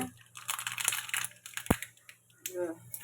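Mustard seeds crackle and pop in hot oil, irregular sharp sputters and sizzling bursts close by, with brief talk mixed in.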